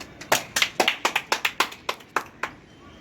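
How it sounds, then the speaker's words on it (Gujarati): A small group claps for a challenge winner, a dozen or so sharp hand claps in a loose, slightly uneven rhythm, close and crisp, tapering off toward the end. "તાળી પાડો"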